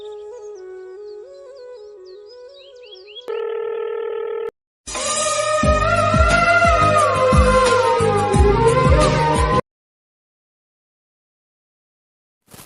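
A mobile phone produces a run of tones while calling: stepped keypad beeps, a steady held tone, then a louder patterned ringback tone lasting several seconds, followed by silence.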